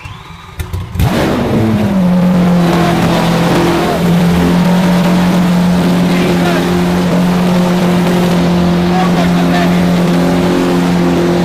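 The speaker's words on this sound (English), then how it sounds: "I want to see what it sounds like with no exhaust on at all, V12 screaming out the back" A Lamborghini SVJ V12 fires up with no exhaust fitted, catching after a few stuttering cranks, then settling into a very loud, close, raw steady idle drone that continues throughout.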